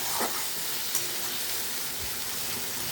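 Whole garam masala, cloves, cardamom, cinnamon and cumin seeds sautéing in a pan for vegetarian shahi paneer, giving a steady soft sizzle with a couple of faint stirring clicks, close and moderately quiet, with no talking.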